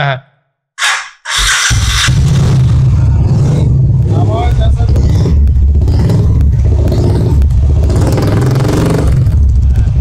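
After a couple of brief start-up bursts, a 2014 Royal Enfield Classic 350 motorcycle engine runs loudly and steadily with rising revs, people talking faintly over it.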